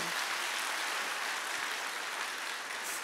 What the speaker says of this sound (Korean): 그분들을 위해서 우리 박수 한번 쳐주세요